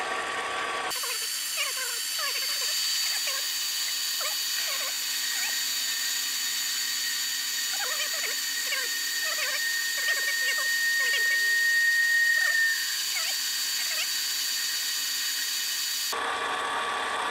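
A metal lathe takes a fine cut on a Cub Cadet bushing, giving a steady whining hum with high tonal ringing and faint scraping, running continuously and fairly quietly before stopping abruptly.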